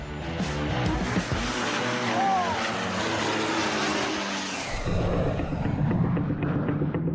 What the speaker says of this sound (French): les 8 Alpha Jets s'envolent à leur tour